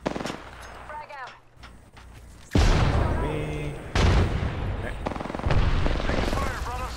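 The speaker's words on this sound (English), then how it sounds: "Listen up, I'm getting shot at." Video game gunfire in Apex Legends, loud bursts of rapid automatic shots and single cracks in sharp repeated volleys over several seconds, with a voice speaking in between.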